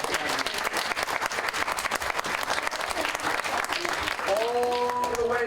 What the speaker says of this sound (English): Let's have a round of applause for a videographer.